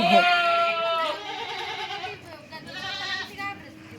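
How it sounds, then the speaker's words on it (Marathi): Farm goats bleat loudly and repeatedly close by, with several wavering calls running one after another while a person talks nearby. "ती शेळ्या तिकडं वरडायच्यात"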